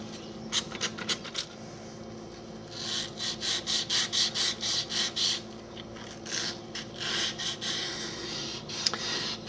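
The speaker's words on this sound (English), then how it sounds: "Even when I'm sanding the stone, I'm carving the stone" Rhythmic back-and-forth scraping of wet sandpaper on a low relief stone carving, a series of evenly paced rasping strokes in bursts with brief pauses between.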